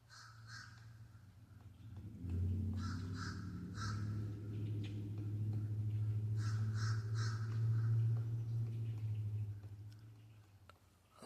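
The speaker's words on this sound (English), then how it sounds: "now there's a lot of birds screeching and hollering to each other" Crows cawing repeatedly in a busy swamp, several birds calling back and forth at a moderate distance over a steady low background hum.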